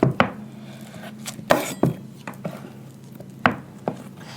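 A knife slices soft natural candle wax into small pieces: sharp, close taps and cuts land irregularly on a hard surface, several in a row, quiet and intimate with no talking.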